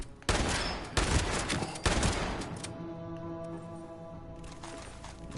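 Loud shotgun blasts in the video game Fallout 76, a basement fight with several sharp booming reports in quick succession, each followed by a ringing tail that fades into a low hum.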